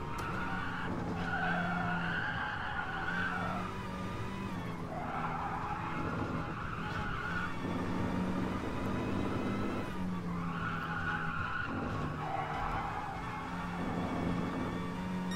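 Race car skidding at the Nürburgring in the GT Sport racing game, with a steady engine drone and repeated rising and falling tire squeals, loud and continuous with no talk.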